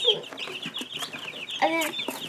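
Blue-laced red Wyandotte chicks peeping up close, a busy run of high chirps and soft clucks with brief rustling, no voices over them.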